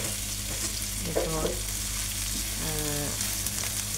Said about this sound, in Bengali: দিয়ে এখন পেঁয়াজের সাথে ভেজে সুন্দর করে নেড়ে নিচ্ছি